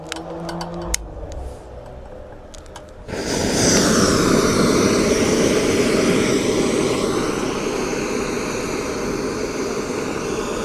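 A Firemaple Petrel G2 camping stove burner ignites after a few clicks and roars loudly and steadily at close range, a continuous rushing jet-like blast that holds to the end.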